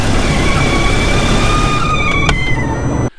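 Steady engine noise from a 2012 BMW F10 535i, a constant droning hum with a faint high whine, loud and close, cutting off abruptly at the end.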